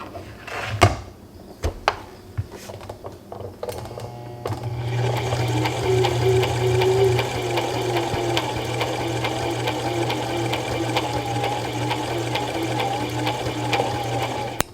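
A Brother 3817 sewing machine runs a blind hem stitch along a folded edge, starting after a few sharp handling knocks and then whirring steadily and loudly for about ten seconds.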